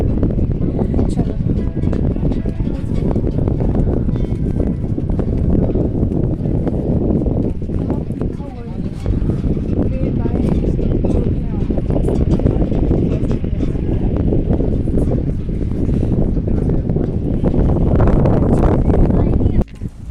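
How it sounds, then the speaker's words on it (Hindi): Strong wind sweeps across a hilltop near Kamlahgarh fort, roaring and buffeting the microphone continuously for twenty seconds while someone talks over it. "तो यहीं पे इतनी ज़्यादा हवा चल रही है।"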